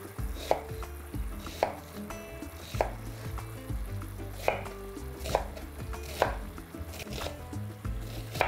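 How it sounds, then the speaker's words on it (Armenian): Two medium onions diced into cubes with a knife on a cutting board, a series of sharp, evenly spaced chops close by, about one every second, over a faint sizzle in the background. "Կվերցնեմ երկու միջին չափի գլուխ սոխ։ Կտրատենք խորան արդիկների"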